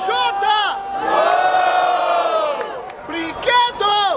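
Crowd at a Brazilian rap battle in Barueri roars and chants loudly in sustained waves, with shouted cheers rising and falling and an MC voice briefly audible over the noise.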